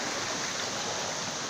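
River water rushes steadily after heavy December rain, a dense, even broadband roar with no breaks and no voices over it.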